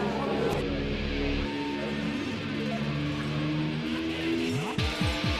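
A V12 Superleague Formula race car of 750 bhp, one of an identical field at Magny-Cours, roars loudly and steadily, then its pitch sweeps sharply up and down through quick gear changes near the end.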